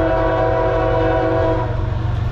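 A Norfolk Southern freight train of 256 axles passes close by, led by locomotive 8010, its horn blaring loud and steady for nearly two seconds over the low rumble of the engines and cars before cutting off.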